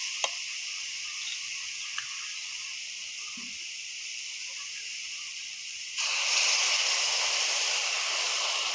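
Milk is poured into grated carrots already fried in a pan for carrot halwa. A steady broadband hiss swells suddenly louder and keeps sizzling strongly, close up.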